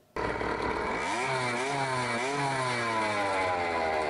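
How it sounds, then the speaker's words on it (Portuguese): The small engine of a homemade, irregular motorized bicycle in Três Lagoas starts up close by and revs with a harsh, buzzing rattle. Its pitch climbs, dips and climbs again over a few seconds. "Essas bicicletas que têm esses motores barulhentos"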